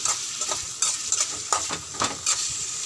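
Chicken tossed with masala in a pan, a spoon scraping and clinking against the metal in repeated stirring strokes over a steady sizzle, close and fairly loud.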